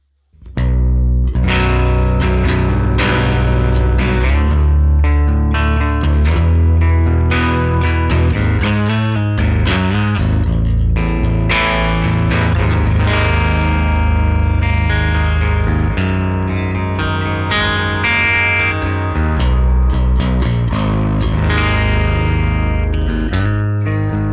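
An electric guitar plays a continuous, gritty passage, its notes trailing into echoing repeats and a spacious wash of reverb.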